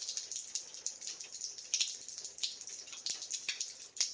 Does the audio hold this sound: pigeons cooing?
no